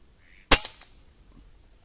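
An FX Wildcat air rifle fires a single sharp shot at a rat, a close crack followed by a brief clatter and quick decay into quiet.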